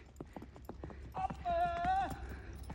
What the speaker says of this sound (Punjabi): ਇਹ ਘੋੜੀ ਤਿਆਰ ਹੋ ਰਹੀ ਹੁਣ ਰੇਵੀਆ ਚਾਲ ਲਈ